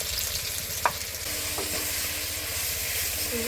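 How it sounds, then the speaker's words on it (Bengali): Turmeric going into a frying pan with chopped tomato in a Bengali vegetarian dish, giving a steady close sizzle under scraping and stirring, with one sharp clink of a utensil early on. "তারপরে দেবো হলুদ"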